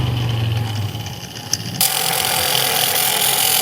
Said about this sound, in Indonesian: Oke, sekarang kita gerinda dulu hasil lasnya.